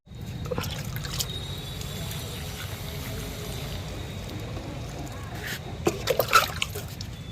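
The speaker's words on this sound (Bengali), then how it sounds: "চলুন এবার একটু জল দিয়ে দিই" Water poured from a container onto seedlings planted in large rice sacks of soil, a steady trickling wash that runs throughout, with a few brighter splashes near the end.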